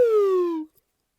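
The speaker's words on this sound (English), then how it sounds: "Okay, let's warm up with the slide whistle." A single downward swoop from a slide whistle rings out loud and alone in an elementary music lesson warm-up, then stops abruptly, leaving quiet.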